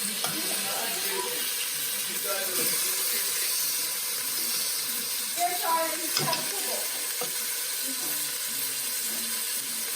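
Braciole searing in a gravy pot, an even hiss of hot fat running throughout with a few scattered clinks and shifts of the meat, while soft voices murmur faintly in the background.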